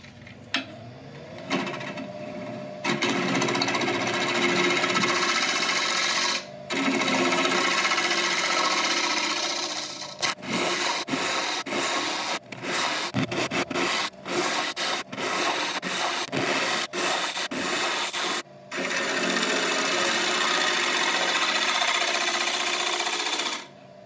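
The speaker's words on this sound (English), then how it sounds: "I'm just going to move on to the Pro Comfort new carbide cutter to help me get it in there deeper with less risk of catches." A carbide cutter scrapes steadily into a spinning wooden burl on a lathe, loud and close, giving long sustained rasping passes broken by short pauses and a choppy, stuttering stretch midway.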